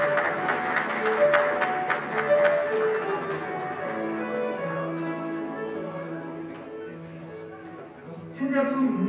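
Applause from an audience at a 2022 new-product certificate award ceremony honoring an LED lighting product, a steady wash of clapping over background music that thins out toward the end.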